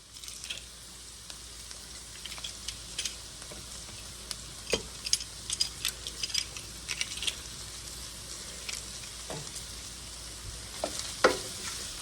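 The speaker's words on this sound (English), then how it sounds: "So now we are going to add in 2 cloves of garlic." Onion and garlic frying in a pan while dinner cooks, a soft continuous sizzle with scattered crackles and pops, close but quiet, then a few sharper clicks and spatters near the end, with no voices.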